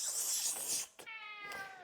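A pet cat gives a single short meow, close and fairly quiet, following a brief hissy rustle.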